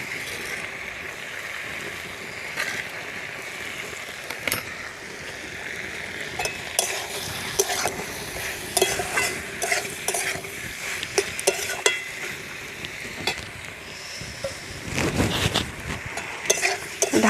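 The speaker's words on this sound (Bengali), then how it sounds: "ঢাকা দিয়ে ঢেকে সবগুলো একসঙ্গে ভালো করে কষে নেব" Prawns and pointed gourd sizzle and fry in a pan in a homestyle village kitchen while a utensil stirs and scrapes through them, a loud, steady crackle with irregular scraping and no talking.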